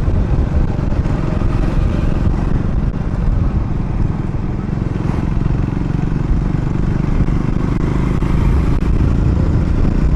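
Steady, dense road traffic with motorbike engines droning close by, a continuous low rumble and clatter with no pauses.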